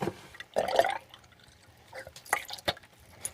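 Water drains down a fridge drain hole in a few short, separate bursts of trickling and dripping, close by with quiet gaps between.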